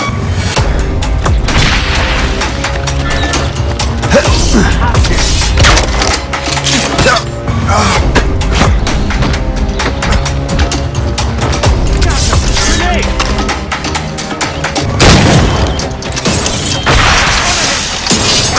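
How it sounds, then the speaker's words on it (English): A grenade blast and its aftermath in Assassin's Creed Rogue, a loud, dense barrage of cracks, splintering wood and booms alongside continuous game music, with shouted voices mixed in throughout. "Grenade on the way!"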